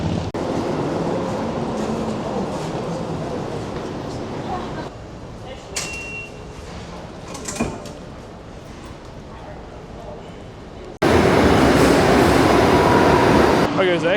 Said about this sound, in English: we will take the train